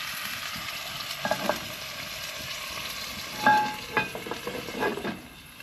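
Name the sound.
food cooking in a pot on a cast iron firebox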